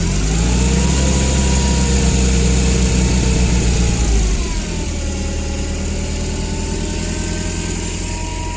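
A cold Komatsu FG20 gasoline forklift engine idles steadily nearby, running with a heavier low rumble that drops to a smoother, quieter idle partway through, with no one speaking.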